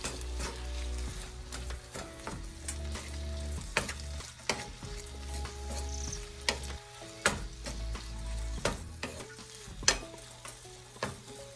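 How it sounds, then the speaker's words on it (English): Vegetables sizzle and simmer in a pan, a soft, steady frying hiss broken by sharp clicks and scrapes from stirring, with no voices. "I'm gonna just simmer them for a few minutes until they're cooked but not soggy."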